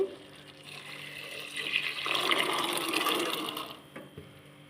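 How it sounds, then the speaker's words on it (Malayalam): Water is poured into a pan of cooked chickpeas, a soft gurgling pour that swells and holds for about two seconds before tapering off into a couple of light clinks, fairly quiet overall. "ഇതിലേക്ക് കുറച്ച് വെള്ളം ഒഴിച്ചു കൊടുക്കാം"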